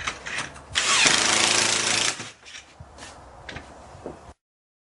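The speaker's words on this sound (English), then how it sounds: "for the last board, I'm going to have to drill both the holes down through from the top" A power drill bores down through the top of the last deck board, a loud burst of drilling lasting over a second, followed by quieter handling clatter and brief knocks.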